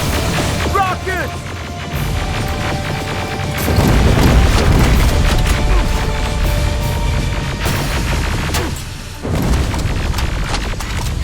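Rockets explode during Terminator: Resistance gameplay, with heavy booms and crashes rolling through a loud, continuous battle din, along with shouted voices.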